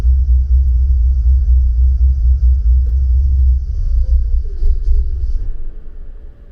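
A car engine idles with a heavy low rumble when put in gear, then the rumble drops away partway through and the engine stumbles back up, rougher and uneven, close by.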